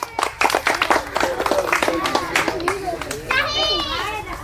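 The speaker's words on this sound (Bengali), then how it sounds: "হাততালি তার জন্য" Children clapping for a prize-winning contestant at an outdoor ball-collecting game, scattered close claps mixed with excited kids' voices and chatter throughout.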